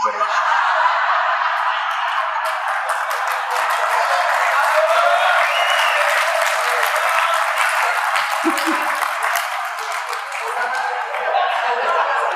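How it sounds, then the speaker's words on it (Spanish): A large audience at a talk on alcoholism and Al-Anon bursts into sustained, loud applause, dense steady clapping with a few chuckles mixed in, running continuously throughout. "Los que aplaudieron más fuerte comprendieron"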